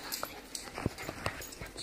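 A dog gives a few soft whimpers and yips with some panting between them, close by and quiet, no voices over it.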